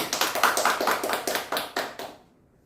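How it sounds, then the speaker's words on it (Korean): A church congregation at a Sunday morning worship service claps in unison in praise, about a dozen sharp, evenly spaced claps ringing close in a reverberant hall before stopping abruptly. "하나님께 감사와 영광의 박수를 드리겠습니다."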